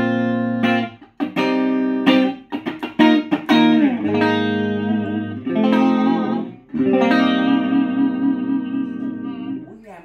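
Clean electric guitar straight into a Laney amp with every effect switched off, played up close and loud as picked single notes and sustained chords ring out, with short gaps between phrases.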